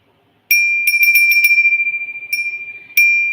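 A thrifted metal bell with scalloped edges and a bird on top rings clearly in several bursts: a quick series of bright strikes, then two single rings, each with a clean sustained tone that decays slowly.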